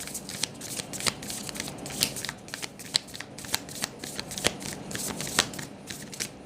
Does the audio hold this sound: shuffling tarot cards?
yes